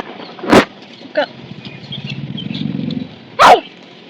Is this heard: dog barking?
yes